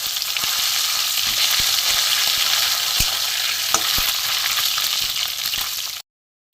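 Hilsa fish heads fry in a pan with a constant loud hiss and sizzle and occasional clicks of stirring. The sound cuts off abruptly into silence at the end.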